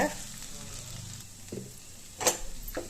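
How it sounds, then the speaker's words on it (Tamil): Drumstick leaves sautéing in oil while being stirred, a soft steady sizzle with a few spatula scrapes and one louder stirring burst toward the end, close and unaccompanied by speech. "இந்த எண்ணெயிலே தான் வந்து அது வதங்கி வரணும் அதனால் அஞ்சு நிமிஷத்துக்கு நல்லா வதக்கி விட்டுக்கிட்டே இருங்க"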